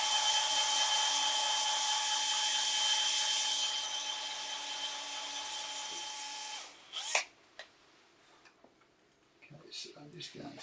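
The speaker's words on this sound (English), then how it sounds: "I've got a brad point bit" A brad point bit in a hand drill bores slowly through a wooden bedside cabinet drawer, giving a steady whine that fades and stops midway, followed by a few clicks and brief handling noises.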